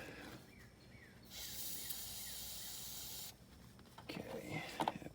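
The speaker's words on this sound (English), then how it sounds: "Spray these bolts down." A steady aerosol spray hisses for about two seconds onto bolts on a 1996 Ford Thunderbird, fairly close, followed by quiet shuffling and a few clinks.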